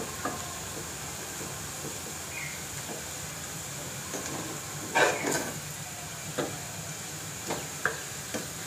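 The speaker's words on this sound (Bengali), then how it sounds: "যে মশলাগুলো আমার ভাজা হয়ে গেছে" Garlic and spices fry for a dal tempering with a steady soft sizzle, broken by occasional close clinks and scrapes of a spoon against the pan.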